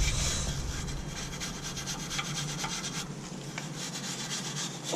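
A dry brush scrubs metal on a vehicle during a rear air bag install, producing a continuous harsh, raspy rubbing up close that stays steady and loud throughout, with no talk.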